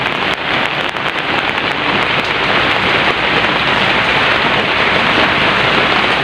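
Heavy rain pours down steadily during a fishing trip, a dense, loud, continuous hiss of drops on surfaces that fills the whole stretch without pause or voices.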